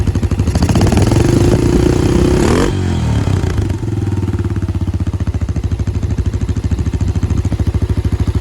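A Yamaha 225DX Tri-Moto three-wheeler engine under restoration revs loudly with rising pitch under throttle, drops off sharply, then settles into a steady, close, rapid putter at idle, with no talking.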